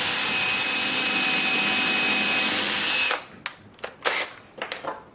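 A power drill whines steadily for about three seconds while making a pilot hole, then stops, followed by a few short clicks and knocks close by.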